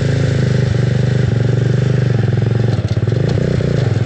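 A racing tractor's engine runs loud and close in a steady, throbbing idle with a rough, pulsing rhythm and a brief dip near the end.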